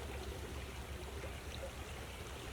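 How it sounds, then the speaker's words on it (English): Creek water at an outdoor nature camp, flowing as a steady, soft broadband wash with a faint trickle and no pauses, heard alone at low level. "To be quiet and hear the water."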